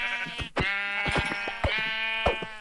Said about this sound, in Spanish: qué chulo el mod de las ovejas